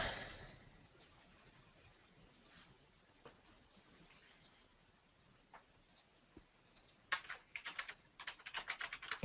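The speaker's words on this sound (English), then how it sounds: "I'm typing it in." Someone types on a computer keyboard, faint scattered taps over a quiet room, building to a denser, louder run of keystrokes at the end.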